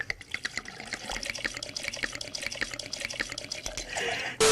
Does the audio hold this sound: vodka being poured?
yes